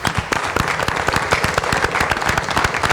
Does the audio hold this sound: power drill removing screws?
no